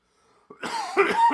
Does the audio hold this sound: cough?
yes